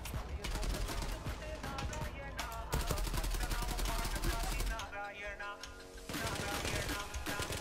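Rapid bursts of AUG A3 rifle fire in the online shooter Zula, dense automatic volleys with brief pauses, loud and close over game ambience.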